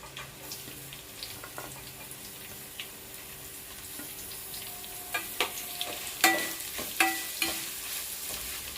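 Onions frying in hot oil with whole spices for Telangana-style bagara rice, a soft background sizzle broken by a few sharp clanks and scrapes of the stirring spoon toward the end, with no talking.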